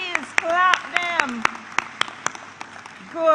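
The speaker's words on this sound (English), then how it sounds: "Clap them, please. Clap them." Scattered hand claps at a high school graduation ceremony ring out at an uneven pace beneath a voice, with a few louder individual claps standing out.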